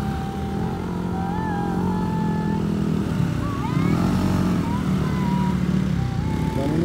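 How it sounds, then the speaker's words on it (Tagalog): Steady engine drone of several motorcycles moving close by on a road in Abra, Philippines, continuous and loud throughout, with faint voices speaking Filipino mixed in. "Daming motor ah."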